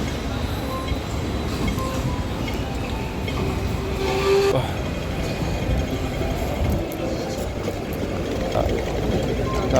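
A tram rolls past at a city station, a steady low rumble and rail noise with broadband hiss filling the scene, while a person talks over it nearby.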